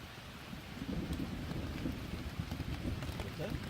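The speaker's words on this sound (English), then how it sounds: "that is the pitter patter of rain" Rain pours steadily at a campsite on the Old Loggers Path, a dense, even pitter-patter on the surfaces close by, with a low background rumble that may be distant thunder.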